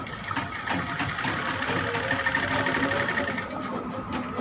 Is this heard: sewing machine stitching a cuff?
yes